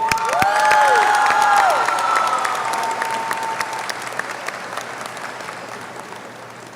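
Audience at a 2024 high school graduation ceremony claps in a dense, loud burst of applause with a few cheers and whistles, gradually tapering off.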